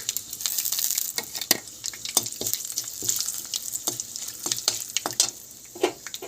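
A dried red chili crackles in hot oil for tempering, sharp irregular pops and spits over a soft hiss, close and clear with no talking.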